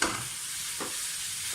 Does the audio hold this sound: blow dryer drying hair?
no